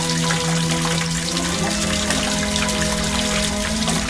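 Water pours and splashes steadily and loudly for the whole stretch, with a faint tonal hum underneath.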